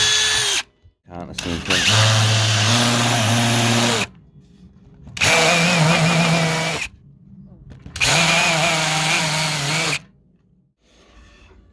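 Power drill countersinking screw holes, three bursts of whirring and grinding each lasting a few seconds with short pauses between, close and loud, with brief speech in between.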